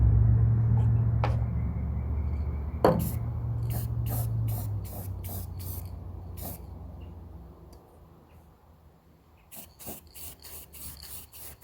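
Spray paint hisses onto a doorbell chime cover as a light tack coat, in a steady spray for a few seconds and then a run of short, sharp bursts, with a low background rumble.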